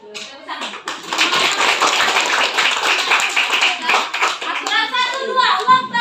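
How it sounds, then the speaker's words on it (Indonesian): Students in a high school classroom clap their hands together, a loud, close burst of fast mixed clapping that swells and then trails off, with children's voices and chatter overlapping near the end. "Tepuk tangan."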